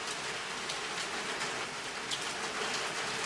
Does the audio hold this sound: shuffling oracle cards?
no